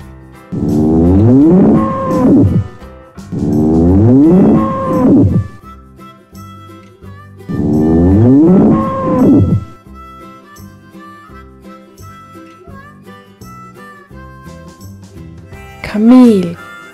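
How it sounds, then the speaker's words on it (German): A bull lowing close by: three long, loud, drawn-out moos separated by short pauses, then a fainter stretch and one short final call. "Bulle."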